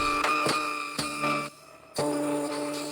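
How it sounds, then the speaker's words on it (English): A chopped vocal sample from a Witch House sample bundle: sustained, tonal sung fragments cut into short choppy segments with abrupt stops and a brief gap, close and clear with no talking. "is a chopped vocal"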